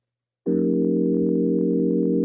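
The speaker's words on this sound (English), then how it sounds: "It sounds like an electric piano." One sustained FM synthesizer note, a sine wave modulating another sine wave, starts abruptly after a short silence and holds at a steady level with an electric-piano-like tone.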